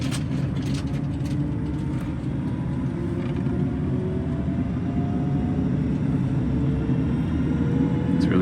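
Electric-converted 1975 Volvo 164 accelerating gently on the road, a steady low rumble of tyres and cabin noise with a faint rising whine throughout.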